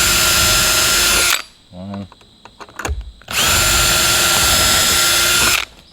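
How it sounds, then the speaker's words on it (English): A power drill pre-drills holes through metal roofing on a shed roof, two loud sustained bursts separated by a pause with clatter and a brief voice counting. "Let's re-drill through the metal that's already there."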